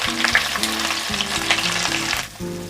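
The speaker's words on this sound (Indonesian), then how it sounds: "Saya tumis terlebih dulu bawang merah yang sudah diiris tipis." Thinly sliced shallots sauté in a hot pan as the first step of a garlic fried shrimp dish, giving a steady, close, continuous sizzle with light crackles and stirring, no voices.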